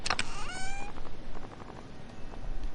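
A cat in Stardew Valley gives a short, bright meow, then soft game sounds follow quietly with no speech.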